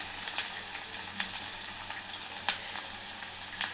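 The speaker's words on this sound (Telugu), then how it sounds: "ఇవి మంచిగా పచ్చివాసన పోయేంత వరకు వేయించుకొని" Freshly pounded ginger and garlic fry in a pan with a soft continuous sizzle, a few sharp crackles and stirring scrapes popping through, close and without talk.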